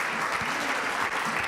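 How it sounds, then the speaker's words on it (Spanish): Steady clapping from a congregation during an evangelical church service, filling the space with continuous dense applause at an even level throughout, with no voices breaking through. "Dele palmas al Señor"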